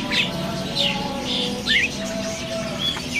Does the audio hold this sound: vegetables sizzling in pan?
no